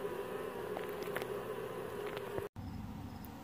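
Honeybees buzz at the entrance of their new hive after removal from a water meter box, a steady close hum with brief swells from passing bees and a momentary dropout.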